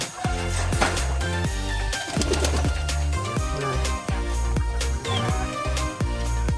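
Pigeons in a breeding loft at feeding time give soft, rhythmic cooing calls, close and overlapping, with scattered rustles and movement around them.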